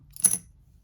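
Monopoly Star Wars Edition game coins being handled, giving a single brief metallic clink and jingle that fades quickly into near silence.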